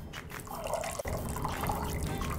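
Softened food lifted out of a bowl of soaking water with tongs, giving close splashing, dripping and trickling water over a couple of seconds.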